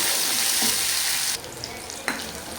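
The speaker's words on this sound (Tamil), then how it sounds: "இதை இப்போ நல்லா அப்படியே பொன்னிறமாக அப்படியே வர வரைக்கும் வதக்கலாம் மிக்ஸ் பண்ணுங்க" Red chillies, onion, coriander and curry leaves sizzle in hot oil while being stirred, a loud continuous frying hiss that drops abruptly partway through, with a brief clatter afterwards.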